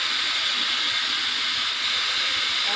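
A pressure cooker whistle releases steam while village-style egg and chicken sambar cooks, a loud, steady high hiss held for the whole stretch with no talk.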